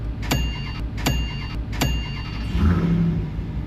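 A car pulling away at a Mopar car show, with three sharp metallic pings or clicks followed by a low engine rumble that swells as the vehicle moves off, nearby and moderately loud.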